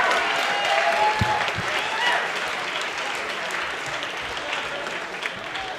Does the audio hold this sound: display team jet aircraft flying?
no